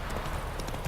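Hooves of Roach, a horse in a video game, clop rapidly at a gallop, a short dense burst of close hoofbeats.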